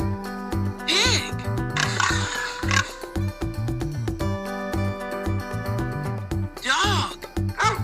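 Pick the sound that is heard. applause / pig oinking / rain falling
pig oinking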